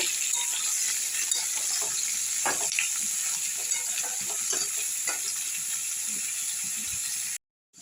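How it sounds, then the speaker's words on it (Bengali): Potato and radish pieces fry in a pan, giving a continuous crackling sizzle with scattered sharp pops and scraping clicks, steady until it cuts off near the end. "আলু আর মূলোটাকে এর মধ্যে দিয়ে দেবো। দিয়ে একটু ভেজে নেব।"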